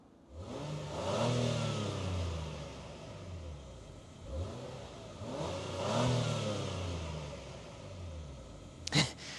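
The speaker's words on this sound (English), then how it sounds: "let's go ahead and take a listen to the exhaust note of this MDX Type S." A 2023 Acura MDX Type S engine revs up twice, each rise swelling into a deep raspy exhaust roar before settling back to idle, with a sharp click near the end.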